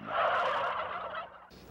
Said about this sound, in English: put me in the middle of a field of turkeys on Thanksgiving